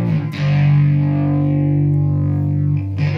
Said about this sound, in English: we actually have the ability to do like a tri-flanger